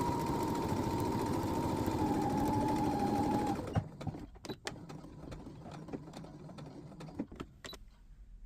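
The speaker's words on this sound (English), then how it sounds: "now we're going to top stitch down the edge here" A sewing machine runs at a steady, fast whir while top stitching down the edge of a zip fly on Roan trousers, then stops. Several sharp clicks and handling taps follow close by.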